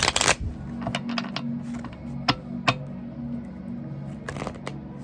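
Playing cards riffle and flutter in short bursts with soft snaps and taps, close up in a quiet room.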